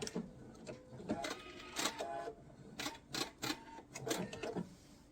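A sewing machine stitching back and forth over quilt binding in short whirring bursts, about eight separate runs with brief pauses between them, fairly quiet and close.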